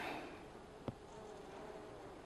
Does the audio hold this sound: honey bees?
yes